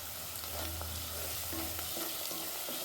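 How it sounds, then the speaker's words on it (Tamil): Garlic and onion fry in a pan with a steady, close sizzle and crackle, broken by occasional stirring scrapes, while mochai masala is being made. "பூண்டு, வெங்காயம் எல்லாம் நல்லா வதங்கி வருது"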